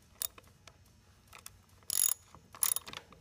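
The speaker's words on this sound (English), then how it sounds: "All we have to do is set our rotary table on 40 degrees" Rotary table on a T-REX post-and-beam framing saw being adjusted to a 40-degree setting, heard as several sharp metallic clicks and ratcheting bursts spread over a few seconds, close by, with no talking.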